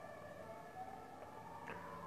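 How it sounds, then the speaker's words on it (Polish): Police and fire engine sirens wail at a distance on a street, a steady faint rising-and-falling tone heard alone without talk. "tu cały czas jakaś policja jeździ, straż, co tu się dzieje?"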